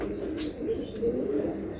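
Giribaj homing pigeons, a pair, give soft low coos, a few short repeated notes close by in a quiet room.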